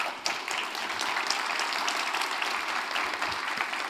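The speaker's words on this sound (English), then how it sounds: "one more round of applause for Ethan" Audience applause at a Devcon conference talk, steady even clapping from a moderate crowd throughout, moderately loud with no voices on top.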